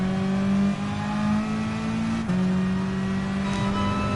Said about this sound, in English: I love how all these cars just have a ridiculously loud whining turbo on them.